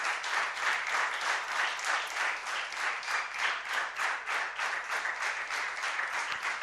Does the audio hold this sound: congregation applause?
yes